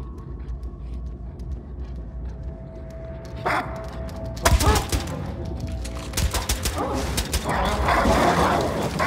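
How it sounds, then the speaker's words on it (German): A dog barking in the video game Wolfenstein II: The New Colossus, sharp yaps and whimpers in irregular bursts amid gunfire-like cracks and background game noise. "Da ist Hundi."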